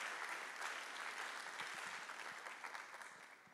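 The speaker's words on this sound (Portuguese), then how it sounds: "Palmas para eles, gente." A congregation applauds during a church celebration service, a steady, dense wash of many hands clapping that holds throughout at moderate level, easing slightly toward the end.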